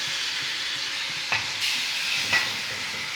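Chopped garlic and annatto seasoning frying in a pan, a steady bright sizzle with a couple of brief crackles and stirring sounds, no voices.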